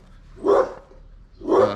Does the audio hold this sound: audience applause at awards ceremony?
no